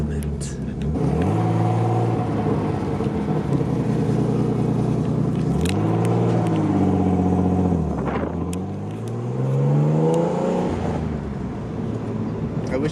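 A Nissan Skyline R33 fitted with an RB30 engine drives, revving up and easing off in several distinct sweeping pulls, loud and close, between stretches of steady idle-like rumble.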